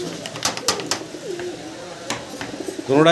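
Lakkha pigeons, a black pair and a white pair, coo in several short, fairly close bursts, with a voice talking briefly near the end.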